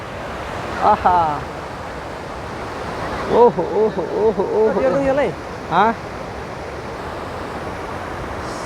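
Meailung waterfall in Nepal produces a steady, loud rush of flowing water, while a man calls out short exclamations over it several times.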